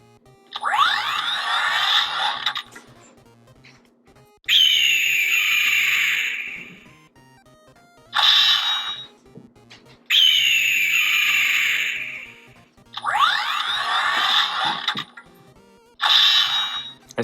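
Electronic bird-head sounds from a Transformers Beast Mode Bumblebee toy: six loud bursts of chirpy, warbling synthetic tones, each one to two seconds long, separated by short silent gaps.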